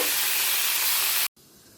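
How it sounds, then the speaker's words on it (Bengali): Pointed gourd (potol) hisses loudly in hot oil in a pan, a dense, steady sizzle that cuts off abruptly, then continues more faintly. "পটলটা ভাজতে দিয়ে"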